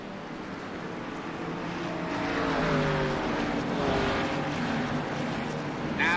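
Race cars at Indianapolis roll around on the pace lap, a steady broad engine drone that swells slightly midway and stays fairly distant and continuous, with no talk over it.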